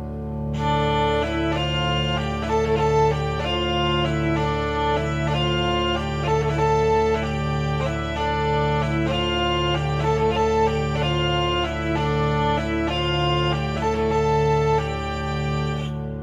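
A virtual hurdy-gurdy, bowed and buzzing, plays a steady melody over a sustained low drone, continuous and fairly loud throughout, with no voices.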